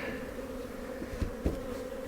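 Honeybees buzz steadily at an open beehive during a survival check after a hard freeze, a continuous close drone with a couple of soft knocks from the hive equipment.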